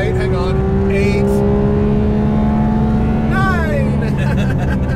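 A 2018 Porsche 911 GT3 Touring's naturally aspirated engine drones loudly and steadily from inside the cabin, with a rising whine near the end, while people talk over it.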